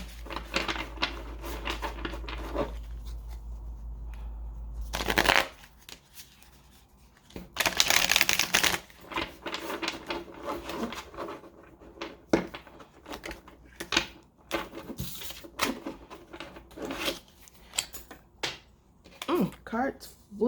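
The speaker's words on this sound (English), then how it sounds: "Cards flipping off this jank already." A deck of cards is shuffled and flipped out for a past, present and future reading, with soft riffling, patter and slapping card sounds close by while a person talks between them.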